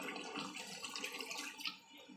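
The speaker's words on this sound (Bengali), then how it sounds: "চলুন এবার দিয়ে দেবো অল্প পরিমাণ জল" A small splash of water is poured into a cooking pan, giving a soft, steady watery rush that lasts a couple of seconds, fairly quiet and close, with no talking.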